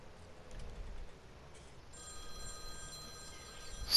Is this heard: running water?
no